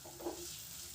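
Masala spice paste with chicken liver frying in a pan gives a steady, soft sizzle, quiet and continuous, with no voices.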